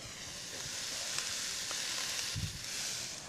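Onions, peppers and garlic sauté in a pan for a bean chili, giving a quiet, steady sizzle with faint stirring clicks.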